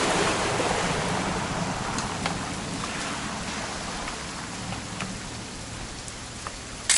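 Heavy rain pours in What Remains of Edith Finch, a dense, loud, continuous hiss of drops on surfaces, easing slightly over time with occasional brighter splashes.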